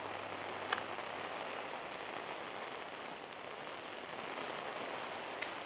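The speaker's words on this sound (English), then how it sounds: "Got some rain coming down, starting to come down a little heavy" Heavy rain pours onto a street in Vietnam in a steady, even hiss of dense drops, with no breaks and no talking.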